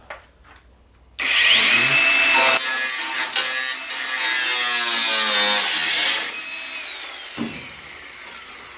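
A power tool trims the metal of a rusted Ford Falcon plenum, cutting in loud, sustained bursts with short pauses and a scraping whine, followed by quieter handling noises.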